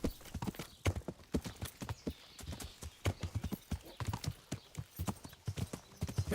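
Horse hooves clip-clop in a steady, quick rhythm as a mount trots through the medieval world of Kingdom Come: Deliverance, fairly close and continuous with no talking over it.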